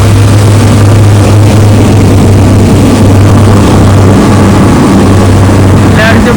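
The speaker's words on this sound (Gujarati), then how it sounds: "આ રીતે બોટ જતી રહે" Loud, continuous low engine drone from a boat passing at a waterway crossing where a gate has opened and road vehicles wait, holding steady with no clear rise or fade, a voice faintly present.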